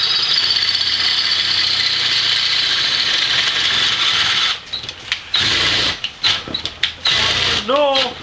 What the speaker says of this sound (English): Now I just have to drill some bigger holes